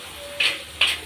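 Spices roast in a hot pan, giving two short, bright sizzling scrapes as they are stirred, close and fairly loud with no talking.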